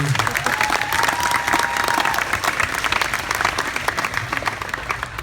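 Audience applause at a high school graduation-night hypnotist show, a full, steady wash of clapping from a crowd, fairly loud and unbroken for the whole stretch with a faint crowd murmur beneath.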